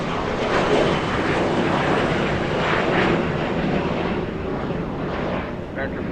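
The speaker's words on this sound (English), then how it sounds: "That was an Embraer 500 heading to Santa Rosa" Embraer 500 jet taking off at Los Angeles International Airport, a broad, steady engine rush with wind-like noise that fades slightly at the end.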